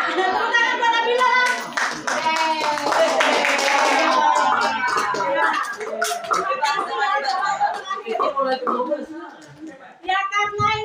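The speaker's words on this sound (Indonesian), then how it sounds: "tepuk tangan buat Nabila." Group of children and adults clapping for a girl named Nabila after her group's turn, rhythmic hand claps mixed with lively chatter and kids' voices throughout.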